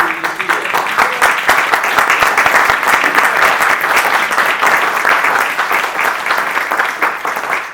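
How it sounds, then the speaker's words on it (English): An audience at a Washington National event gives a steady round of applause, dense and loud, sustained for several seconds with no pauses. "I want to give a round of applause just for you being here."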